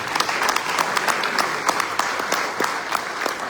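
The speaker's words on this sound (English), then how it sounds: "Please give all of them a round of applause." An audience at a satsang gathering in Durban, South Africa applauds, a dense steady wash of many hands clapping at moderate distance without pause.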